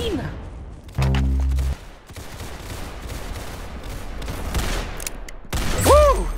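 Bursts of gunfire crack out in a loud volley near the one-second mark, with scattered shots and ambient noise following and another strong burst near the end, a voice briefly audible.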